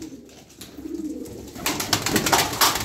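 A flock of young Genç Küllü pigeons, ten birds, cooing and fluttering together close by, with soft murmuring calls at first and a denser, louder burst of wing and movement noise later.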